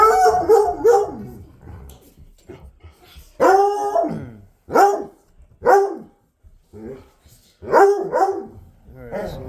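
Several dogs barking and howling excitedly indoors, loud repeated bursts in irregular clusters with short gaps between, fairly close and with no talking over them.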